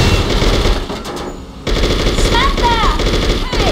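Rapid bursts of automatic gunfire in a video game set in New York City, loud and dense with overlapping machine-gun rattles, broken by a short pause before the shooting resumes.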